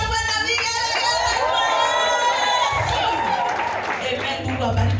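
A close, loud crowd at a joyful welcoming ceremony cheers and ululates continuously, high wavering trills layered over shouting and clapping that hold steady for the full five seconds.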